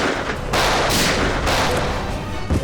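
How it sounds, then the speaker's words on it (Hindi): Dense, loud gunfire rattles continuously, volleys of shots blending into a steady roar with heavier bursts throughout, no voices. "धड़ाधड़ गोलियां चलनी शुरू हो गई"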